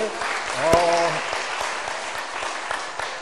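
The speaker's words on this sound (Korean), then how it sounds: "정말로 박수 한번 쳐봐요." A Korean church congregation breaks into steady applause during a Sunday afternoon service, many hands clapping at moderate loudness, with a brief voice near the start.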